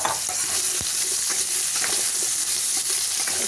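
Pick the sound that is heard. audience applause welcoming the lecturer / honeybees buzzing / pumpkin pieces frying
pumpkin pieces frying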